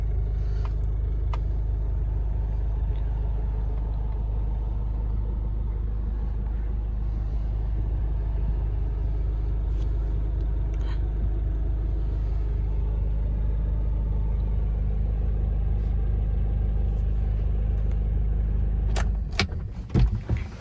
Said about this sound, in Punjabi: ਇੰਜਨ ਦੀ ਬਿਲਕੁਲ ਸਾਇਲੈਂਟ ਗੱਡੀ